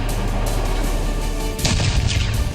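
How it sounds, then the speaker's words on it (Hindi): Vajra-T self-propelled howitzer firing an artillery shell: a loud, steady low rumble gives way to one sharp, broadband blast partway through, followed by a rough echoing tail. "वज्र अपने बारूदी गोले खास तरीके से फेंकती है"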